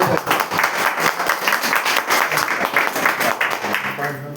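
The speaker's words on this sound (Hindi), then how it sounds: "तो मैं चाहूंगा उनके लिए भी एक जोरदार ताली" A large seminar audience gives a loud round of applause, dense and continuous with steady clapping texture and crowd voices mixed through it.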